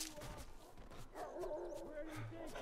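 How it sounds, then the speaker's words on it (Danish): A pet dog in a room gives short barks and low growls close by while a person talks over it, with game sounds running in the background. "Åh oh, nej, nu går min hund af mig, eller knurrer af mig"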